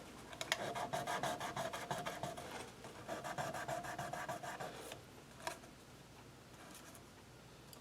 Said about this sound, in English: a little bit of 1000 grit sandpaper. I'm just going to go along these frets. A couple swipes on these frets.